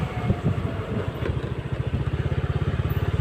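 A motorcycle engine rumbles on a cool village road, close by. The low throb settles into a fast, even pulse, like idling or slow riding, with no voices.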